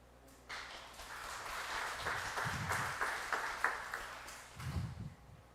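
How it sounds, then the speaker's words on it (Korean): A church congregation applauding during Sunday worship as a book gift is presented, a soft scattered clapping that swells and lingers for several seconds with distant room echo. "제가 책 선물로 드릴 때 여러분들 박수로 축하해 주시기 바랍니다"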